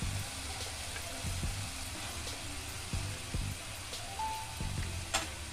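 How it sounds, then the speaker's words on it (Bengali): Potatoes and lentil dumplings frying in spice paste for a fish curry, a close steady sizzle broken by intermittent scrapes and stirring knocks in the pan, with no voices. "দিয়ে আবার ওই মশলার সাথেই ওগুলো একটু ভেজে নিলাম।"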